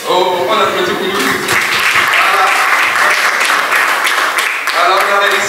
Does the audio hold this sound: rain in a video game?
no